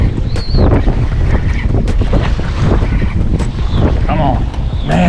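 Strong wind whips across the beach during surf fishing on Long Island, loud gusty buffeting against the microphone with surf behind it and brief voices mixed in.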